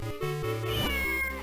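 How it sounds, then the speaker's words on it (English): A cat meows in The Legend of Zelda: The Minish Cap, a single drawn-out, clear, close tonal call with no talking. "Aw, kitty. Kitty, kitty, kitty."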